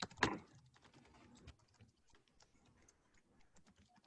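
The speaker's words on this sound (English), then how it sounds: "I haven't mastered talking and typing" Keys on a computer keyboard clack at close range, one sharp strike first, then a quieter, irregular patter of taps.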